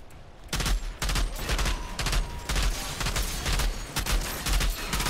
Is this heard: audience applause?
no